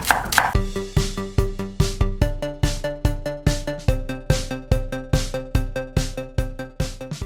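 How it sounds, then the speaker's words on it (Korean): A knife slices garlic on a cutting board in a cooking class, each stroke a crisp, close thunk in a steady, even rhythm of about three cuts per second, with no talking. "이제는 마늘을 편으로 써실까요?"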